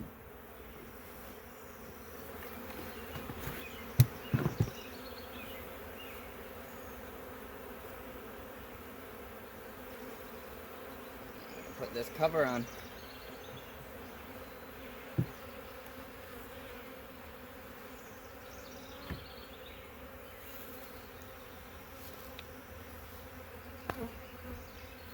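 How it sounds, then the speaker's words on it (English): Agitated honey bees hum in a low, steady drone around a hive, with occasional knocks and handling sounds and a brief spoken remark nearby. "you can see there's just a ton of upset bees"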